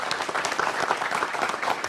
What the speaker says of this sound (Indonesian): Tepuk tangan untuk para mahasiswa.